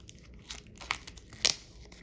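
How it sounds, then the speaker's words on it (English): Packaging being peeled and torn off a Bruce Springsteen "Nebraska '82" box set, a few close crinkly rips and crackles in short bursts, the loudest tear near the end, with no talking. "Let's peel this all away"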